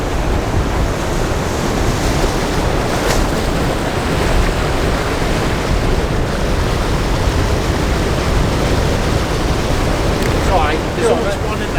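Cold evening surf washes in along a shoreline behind a landscape photographer, a steady, broad roar of breaking water with wind buffeting the microphone, continuous and fairly close.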